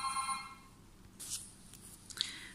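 A telephone rings in a quiet home setting, a few short bright ring bursts spread across the moment, moderately faint and heard alone with no talk over it.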